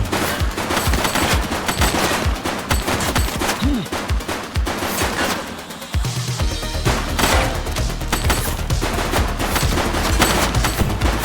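Dense, loud bursts of rapid automatic gunfire in the police video game Precinct, continuous volleys with a short lull midway before the shooting resumes.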